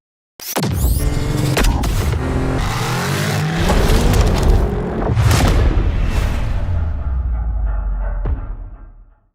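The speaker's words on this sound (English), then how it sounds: "I think the gear shifts alone deserve a montage because it's been so long since we drove a manual transmission" A Nissan Magnite with a manual transmission revs hard and drops between bursts, with sharp clunks and loud transients at each gear shift, close and steady throughout.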